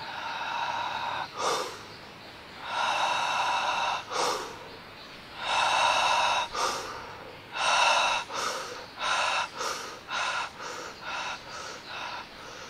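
Accelerated breathing exercise, loud forceful breaths drawn in and pushed out close to the mic, at first in long strokes and then quickening into shorter, rapid bursts.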